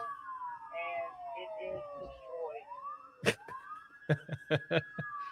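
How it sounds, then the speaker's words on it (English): Police sirens wail and sweep in pitch, followed by several sharp short whoops and blasts near the end. "It's only sirens."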